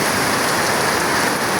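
Heavy rain pours steadily while water gushes from a neighbour's downspout, a dense, loud, unbroken roar of splashing water close by with no voices.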